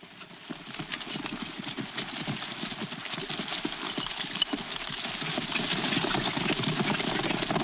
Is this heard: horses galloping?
yes